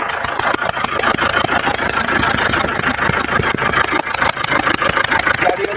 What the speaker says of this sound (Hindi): गाड़ी स्टार्ट है हमारी और इसमें चक चक चक की आवाज़ आ रही है।